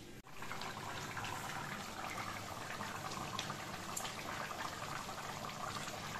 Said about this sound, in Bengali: এখন আর আমি ঢেকে দেবো না, এইভাবে আস্তে আস্তে ঝোলটা ফুটতে থাকবে।